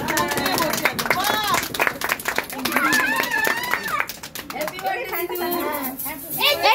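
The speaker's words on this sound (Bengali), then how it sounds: "সবাই হাততালি দাও।" Children and adults clap at a home birthday party, with sharp scattered hand claps mixed with lively overlapping chatter and children's voices close by.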